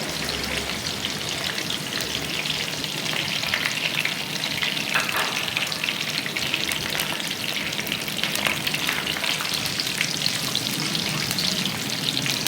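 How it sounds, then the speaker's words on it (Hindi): Curry leaves crackle and fry in hot oil, with a dense, steady sizzle and fine popping that fill the whole stretch. The sound is close, with no talking. "करी पत्तों को थोड़ा सा स्टर करेंगे, ज़रा सा क्रैकल साउंड आना स्टार्ट होगा।"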